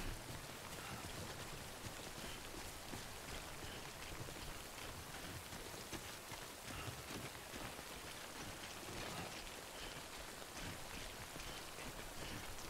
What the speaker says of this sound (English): Get me out of this here timefall.